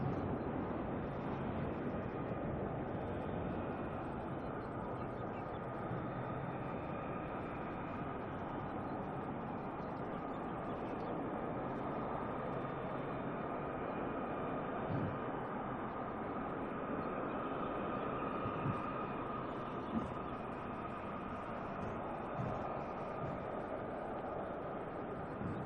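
A plane departing Auckland Airport for Wellington, a faint, distant, steady broadband roar that lasts the whole time with no voices over it.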